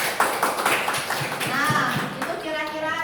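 Schoolchildren applaud in a classroom, giving a brief round of uneven, close clapping that slowly thins out. Children's voices can be heard over the claps.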